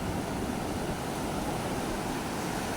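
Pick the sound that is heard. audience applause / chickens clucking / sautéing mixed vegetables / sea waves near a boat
sea waves near a boat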